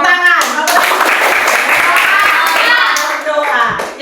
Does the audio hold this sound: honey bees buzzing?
no